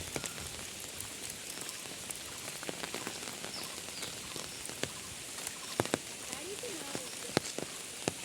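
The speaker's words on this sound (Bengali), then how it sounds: "বৃষ্টির আওয়াজ শুনে তোমাদেরও কি হাঁটতে মন যাচ্ছে" Faint, steady rainfall patters on a surface, with scattered drops tapping distinctly, heard while walking outdoors with an umbrella.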